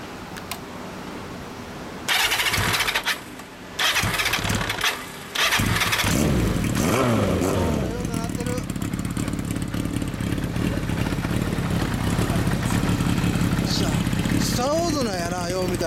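A 1994 Kawasaki Zephyr 750RS fitted with a Midnight Monaka aftermarket muffler starts up after a few cranking bursts, then settles into a loud, steady idle with brief revs, close by and with some talking.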